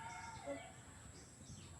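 Chickens in a backyard coop holding five hens, heard faintly as soft clucking and a brief crow-like call over steady low background noise, with no talking.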